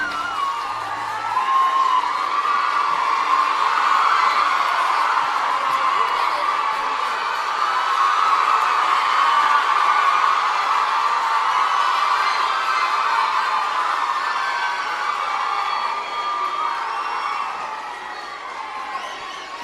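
A large crowd at a memorial day ceremony in Tamil Nadu welcomes the Governor with sustained cheering and clapping, rising and falling in waves for nearly twenty seconds before tapering off.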